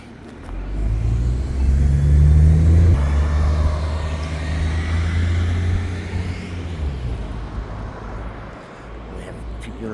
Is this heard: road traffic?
yes